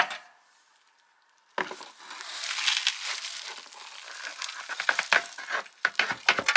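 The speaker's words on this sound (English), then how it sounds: "I'm going to tip this into the bucket" Ash from a narrowboat stove's ash pan tipped into a bucket: after a near-silent start, a dry rustling, gritty pour and scraping begins abruptly and continues with crisp crackles and clatters, close by and moderately loud.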